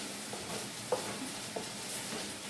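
Courgette pieces cook quietly in a frying pan for a crustless chicken quiche, giving a faint, steady sizzle with a couple of soft utensil clinks.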